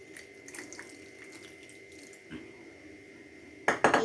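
Water splashes into a ground spice paste of cumin powder and chilli powder for a traditional Kerala dish. A short, bright pour comes in near the end after a quiet kitchen background.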